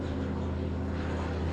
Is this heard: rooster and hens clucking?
no